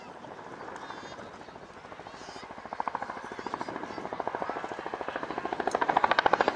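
An RAF Chinook twin-rotor helicopter flies a display pedal turn over an airfield, its rapid rotor blade slap pulsing steadily and growing louder and closer, with faint talk underneath.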